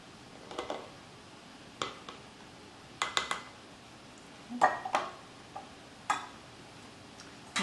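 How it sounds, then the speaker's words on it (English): Sweet pepper and corn relish being packed tightly into a hot jar, scattered soft clinks and taps of a utensil against glass at irregular intervals, quiet and close, with no talking. "I'm taking the sweet pepper and corn relish and putting it in my hot jar."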